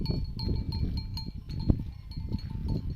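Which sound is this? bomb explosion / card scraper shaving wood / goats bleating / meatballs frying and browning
goats bleating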